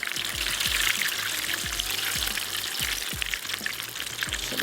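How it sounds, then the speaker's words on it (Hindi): Hot wings fry in very hot oil with a dense, steady sizzle and bubbling. Faint low knocks recur under the frying, and no one speaks. "तो मैं एक दफ़ा इसको फ्राई होने के लिए रख देती हूँ।"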